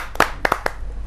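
Audience at a Hindi poetry gathering giving a brief burst of clapping, a few sharp, close hand claps in quick irregular succession.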